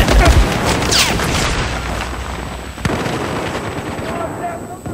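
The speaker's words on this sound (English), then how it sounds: "He threw a grenade, an incendiary." Incendiary grenade going off in Battlefield amid a firefight: heavy booms and rapid gunfire crackle throughout, with a sharp burst near the middle, loud and close, voices mixed in.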